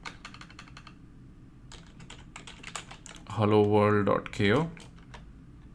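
Rapid typing on a computer keyboard, a steady run of close, crisp key clicks that stops before someone speaks briefly.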